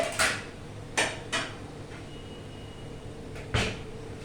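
A serving plate for poha and dahi misal handled close by in a kitchen, giving four sharp clinks and knocks spaced unevenly against a quiet background, with no talking.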